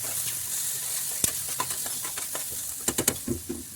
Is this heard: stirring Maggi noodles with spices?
yes